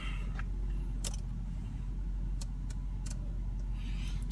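A tiny, high-mileage little car idles and revs inside a garage, its engine a deep, steady rumble with a few light clicks and rattles scattered over it.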